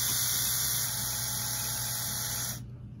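An electric hair removal device runs at its higher speed, giving a steady, close, buzzing motor whine that cuts off abruptly near the end.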